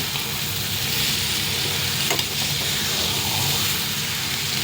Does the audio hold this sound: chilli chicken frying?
yes